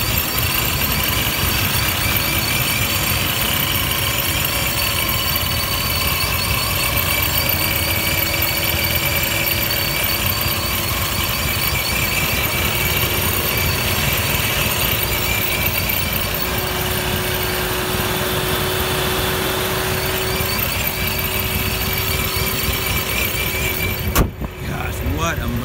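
The 1,000 hp Hennessey-tuned Exorcist's engine runs steadily under the open hood, a loud, continuous idle drone lasting throughout, with a voice talking over it.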